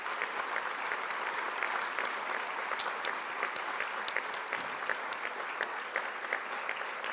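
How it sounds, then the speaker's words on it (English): An audience at a police recruit class graduation ceremony applauds steadily, a dense sustained wash of clapping from many hands throughout, with no voices over it. "Please join me in giving these individuals a well-deserved round of applause."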